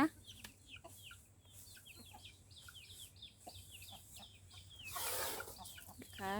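Chickens on a rural farm plot, clucking and chirping in a steady series of short calls at close range, with a louder scuffling burst near the end and no talk.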